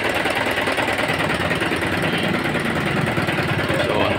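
A Mitsubishi Canter 4D32 diesel delivery truck idles while warming up, its engine clattering in a steady, rapid, loud chug close by without pause.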